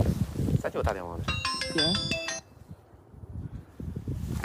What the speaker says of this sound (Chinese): 咋就打电话呢？